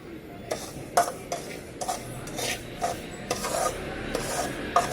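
A spoon scrapes and stirs semolina dry-roasting in a pan for rava kesari, giving soft, close, irregular gritty rubbing with light metallic taps.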